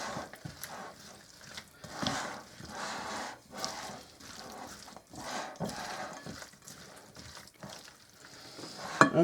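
Shredded coconut, marshmallows and nuts being stirred together in a bowl for a pineapple fluff dessert, giving soft, close scraping and rustling strokes at low volume.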